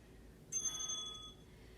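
A workout timer bell rings once, a bright clear ding that rings out and decays over about a second against a quiet background.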